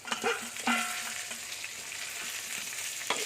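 Crispy pork stir-fries with garlic and chili in a hot pan, a bright steady sizzle broken by a few sharp scrapes and clanks of a spatula against the pan, with no talking.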